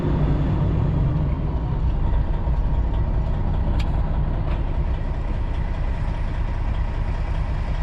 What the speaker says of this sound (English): The fan is just real annoying. Especially when you're parked idling.